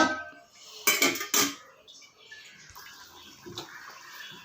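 Chicken stock from boiled country chicken poured into a green-chilli biryani pot, giving two short splashy bursts of liquid near the mic, then quieter kitchen clatter and faint water sounds.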